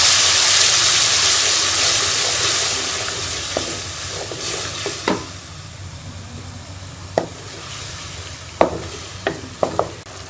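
Loud sizzling erupts in a hot pan as fresh tomato paste is added, then settles into a softer fry with scattered scraping and clinking from stirring.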